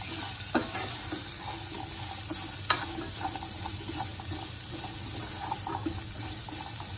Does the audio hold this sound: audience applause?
no